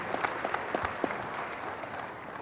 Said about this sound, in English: Let's give another round of clap to our panelists.